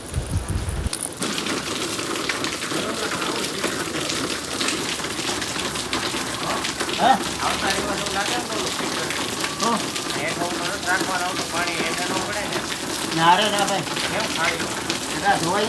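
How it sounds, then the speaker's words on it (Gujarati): A small solar-powered water fountain sprays outdoors, making a steady close patter and splash like light rain that runs throughout with slight swells. "તો આ છે સોલાર ફુવારા."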